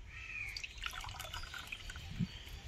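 A sweet mango yogurt mixture for aam doi is poured into a bowl, giving soft wet trickling and dripping sounds against a faint background with distant bird calls.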